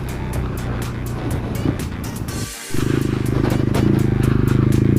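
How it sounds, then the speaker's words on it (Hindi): A motorcycle ridden off-road on a muddy trail toward Chitkul in third gear, engine droning loud and close, dipping briefly before surging back to a strong, steady throb. "तीसरे गियर में अभी बाइक और नो प्रॉब्लम एट ऑल, चौथा भी लग जाता है।"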